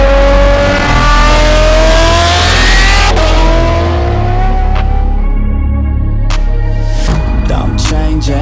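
A DMC-built street-legal Maserati MC20 GT2 roars close and loud, its engine revving with rising and falling pitch sweeps and sharp throttle blips throughout.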